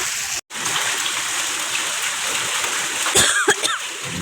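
Heavy night-time hailstorm rain pours down as a steady, dense hiss with a momentary dropout, and a few sharper knocks and splashes come near the end.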